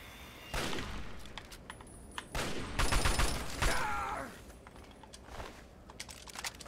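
Scattered gunshots from Fallout 3 gameplay crack in short bursts, fairly close and loud, with several sharp reports clustered in the middle and lighter clicks and rattles around them.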